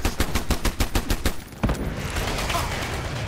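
Sentry gun in the video game Dirty Bomb firing a rapid burst of about ten loud, evenly spaced shots, followed by one more shot and a lingering noisy tail.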